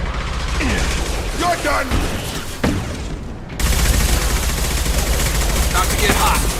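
Gunfire in the video game Mass Effect 2, dense continuous shooting and booming combat noise throughout, with a shouted voice over the battle.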